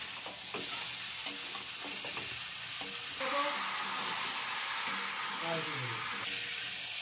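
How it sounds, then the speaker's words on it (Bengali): Fried potato and cauliflower cooked down in oily masala in a pan, giving a steady loud sizzling hiss throughout with repeated scraping stir strokes and clinks of the spatula. "নেড়ে করে কষিয়ে নিচ্ছি।"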